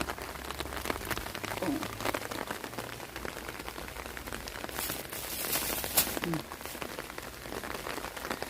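Rain patters steadily over a Thai vegetable garden in Hungary, with dense crackling drops on leaves and surfaces and brief bursts of heavier spatter, while a voice talks quietly nearby.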